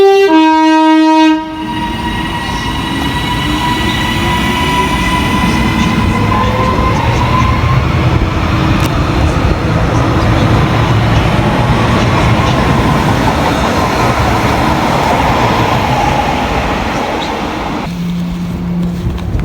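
Class 397 unit 397.001 passing through Motherwell station: a loud two-tone horn blast opens, then a close, roaring rush of wheels and carriages that continues steadily before easing off at the end.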